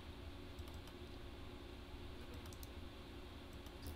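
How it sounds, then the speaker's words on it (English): Someone types on a computer keyboard, with a quick, continuous patter of key clicks from start to finish at low volume and no voices. "So I'm typing the thing you're using"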